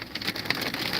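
Steady rain falling outside on a hot summer day, an even hiss of drops with a few sharper patters, fairly faint and with no voices.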